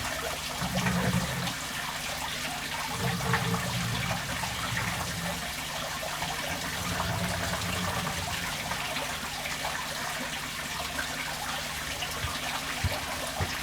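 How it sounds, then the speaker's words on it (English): Water poured carefully out of a fish bowl while new fish are being added: a steady close trickle and splash that runs continuously with no talk. "I'm going to empty some of the water out carefully."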